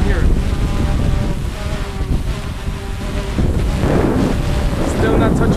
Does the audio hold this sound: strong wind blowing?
yes